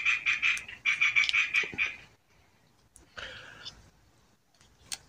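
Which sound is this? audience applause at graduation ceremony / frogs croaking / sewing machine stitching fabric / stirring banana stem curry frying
frogs croaking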